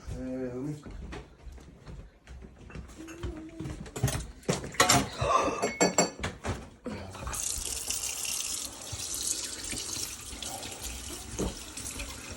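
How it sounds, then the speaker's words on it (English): A skinned rabbit rinsed under a running tap, water gushing steadily into the sink in the second half, preceded by handling clatter and splashes, while people talk nearby. "Now we have to wash him off and peel him out."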